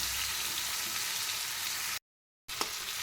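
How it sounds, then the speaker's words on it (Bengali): Fried Malabar spinach seeds go into a sizzling mixture in a pan and get stirred, a steady close frying hiss that cuts out briefly and returns with a small scrape. "এবার দিয়ে দেবো সে ভেজে তুলে রাখা সেই পুঁই শাকের বিচিগুলো। এবার আবার নেড়ে চেড়ে সুন্দরভাবে মিশিয়ে নেব।"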